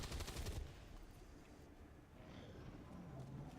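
Gunfire from the turn-based tactics game XCOM 2, a short burst of loud rapid shots up front that quickly drops away to a low rumbling ambience.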